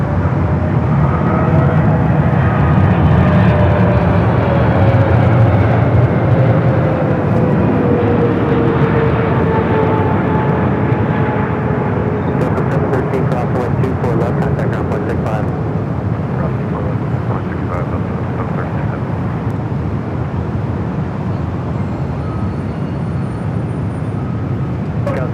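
A Singapore Airlines Boeing 777 arrives at LAX on a flight from Tokyo Narita, a loud, steady jet roar with a slowly falling engine whine that eases off a little over the whole stretch.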